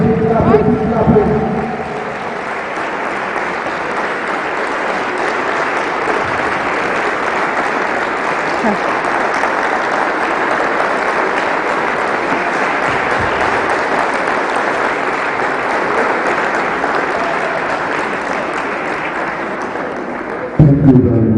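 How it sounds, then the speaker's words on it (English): Sustained audience applause fills a hall after an inaugural university lecture, a dense steady wash of many hands clapping at even loudness for about twenty seconds, with a voice briefly audible near the start. "keep clapping, keep clapping."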